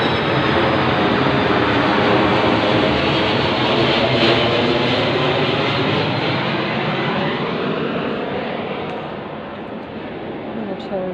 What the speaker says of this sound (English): Military plane overhead.